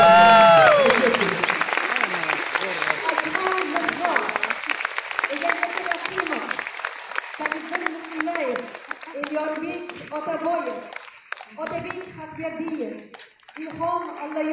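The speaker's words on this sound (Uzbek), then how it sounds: "olqishlar davomiy olqishlar" An audience applauds at the premiere and opening ceremony of the film Avloniy, a sustained wash of clapping from a crowd that fades and swells, with faint voices or music running underneath.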